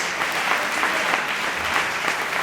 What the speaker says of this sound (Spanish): Dele un aplauso al Maestro de maestros, al Dios de dioses y Rey de reyes.